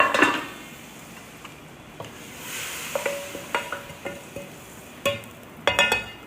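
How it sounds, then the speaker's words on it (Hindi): Tadka tempering sizzles as it is poured into dal, a soft hissing wash followed by a series of sharp metallic spoon and pot clinks, near and fairly quiet, with no talking. "अब ये हम तड़के में डालेंगे अपनी दाल के अंदर"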